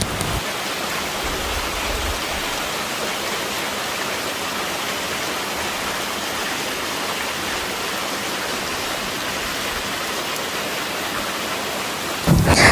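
A waterfall in the desert, formed by an earthquake crack, pours with a loud, steady broadband roar that holds unbroken throughout and rises into a louder burst at the very end.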